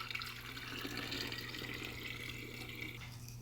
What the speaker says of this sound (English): put some water in the radiator and show you guys where it's leaking out from